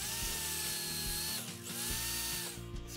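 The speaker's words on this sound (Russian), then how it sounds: "Теперь надо ее просверлить." A power drill boring into wood whines at close range in two bursts, its pitch sagging under load, with a short pause between them.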